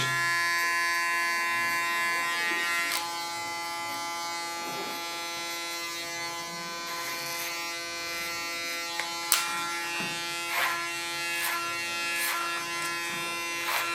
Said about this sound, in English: Put the blade back to 2 millimeters.